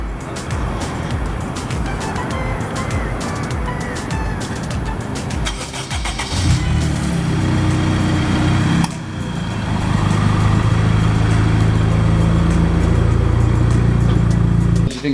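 An Acura RSX engine drones steadily while the car is driven, a loud continuous rumble that deepens and swells about halfway through as the revs rise, with road and cabin noise layered over it.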